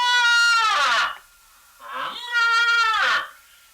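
A human voice imitates a cow mooing with two loud, drawn-out, wavering calls up close, separated by a short pause.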